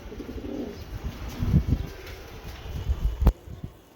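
Racing pigeons coo softly and repeatedly at close range in a loft, low throaty calls with faint rustling and one sharp knock near the end.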